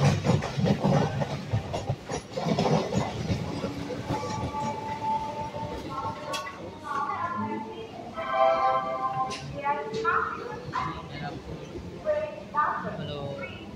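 Commuter train from Kolkata toward Krishnanagar in motion, heard from inside the carriage: a steady rumble and rattle runs throughout, with people talking over it and brief higher tonal squeals or whistle-like tones in the second half.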